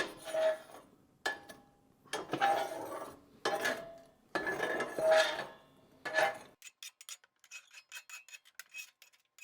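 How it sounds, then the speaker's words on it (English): Ash is raked and scraped down through the grate of a Morso 7110 wood stove into the ash pan below, in a series of rasping metal strokes with short pauses, followed by lighter clinking. "just get all this ash down into the bottom where the ash pan collector is"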